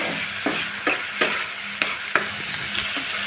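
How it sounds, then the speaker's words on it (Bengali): Shrimp being stir-fried with spices in oil in a pan gives a steady sizzle, broken by regular scraping knocks of the spoon against the pan. "এখন ভালো করে নেড়ে ছেড়ে মশলাটা কষিয়ে নিচ্ছি।"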